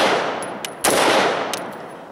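Two sharp AR-15 rifle shots fired with a Battlecomp muzzle brake, loud and close, spaced under a second apart, each cracking out over a steady outdoor background hiss.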